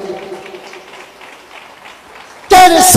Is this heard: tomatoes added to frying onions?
no